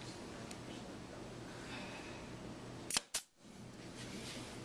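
A nail driven into wood with a nail gun on a CNC-cut candy dispenser: two sharp, close snaps in quick succession against a quiet room hiss, then silence.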